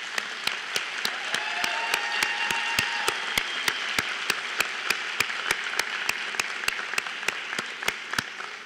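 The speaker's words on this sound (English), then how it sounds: "offer them a nice gesture and a round of applause" An audience at a culinary arts school graduation ceremony claps warmly in a moderate, sustained round of applause, with sharp evenly spaced clicks sounding through it and a soft hum in the background.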